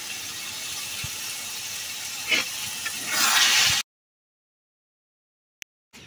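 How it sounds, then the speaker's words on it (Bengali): Bish kochu (taro) stems fry in a pan with a splash of homemade vinegar, a steady close hiss that swells into a louder burst of sizzle before cutting off, then near silence with brief clicks. "আমার হাতের তৈরি সিরকা অল্প একটু করে দিয়ে আমি ভাজা ভাজা করি।"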